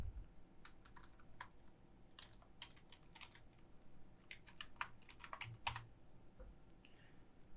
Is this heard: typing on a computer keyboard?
yes